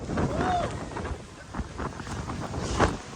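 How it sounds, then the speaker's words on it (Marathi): Water gushing with force from the gates of Srisailam dam, a broad, steady roar mixed with wind buffeting the microphone and a faint rushing spray. "हे दरवाजा यो फोर्स पाण्याला, यो बघ वरपर्यंत उडतं पाणी"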